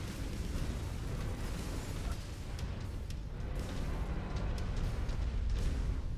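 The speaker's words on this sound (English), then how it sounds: "Somebody's firing." Mech weapons firing in MechWarrior 5: Mercenaries make a dense, rumbling barrage of booms and blasts, steady and loud throughout, with faint sharper cracks scattered on top.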